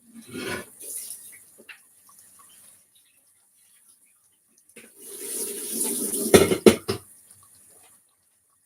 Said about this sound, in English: I want the water to drain out. That's why I placed it on a sieve.